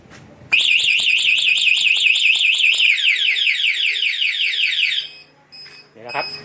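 A TEXNO Super two-way anti-theft alarm fitted to a Kawasaki big bike wails loudly after a quiet start, cycling through warbling siren tones for several seconds before cutting off, followed by faint chirps and a short beep.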